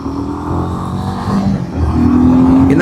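A Royal Enfield motorcycle's engine drones while riding, a steady low thrum that climbs in pitch as the bike accelerates, close and continuous.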